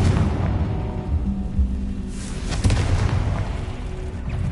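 Blasting-curse explosions from the Hogwarts Legacy video game: a continuous, dense rumble of booms and bursts with a sharper blast hitting near the middle, loud and low-heavy throughout.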